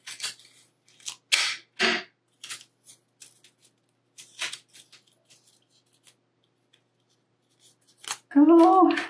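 Clear tape being pulled and pressed onto a paper Möbius strip loop, several short crisp tearing and crinkling bursts with gaps between, close and fairly loud, followed by a brief spoken voice at the end.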